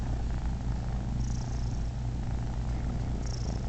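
A male cat purrs steadily while two kittens nurse on him in a laundry basket. The purr is close, continuous and rhythmic, with no talking.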